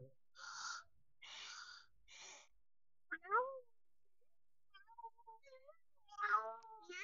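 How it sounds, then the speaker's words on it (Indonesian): A cat in a Roblox-style obby game lets out three soft, quiet meows in a row, followed by a few faint gasping, squeaky cries after a pause. "Miau gitu ya dek kucingnya."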